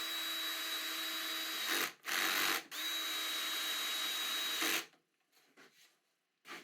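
Power drill driving screws into OSB board, a steady high whine running for several seconds with two brief pauses, then stopping, followed by faint knocks; close and loud, no speech.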